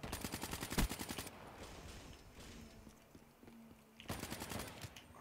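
Rapid automatic gunfire in the video game Call of Duty: Black Ops 3, crackling in two short bursts at the start and end with a quieter gap of muffled game ambience between.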